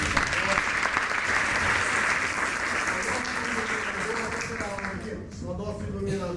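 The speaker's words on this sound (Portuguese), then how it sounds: "uma salva de palmas" A crowd at a naval museum in Rio de Janeiro applauds with steady, dense clapping that carries on for several seconds before tapering slightly, with voices mixed in near the end.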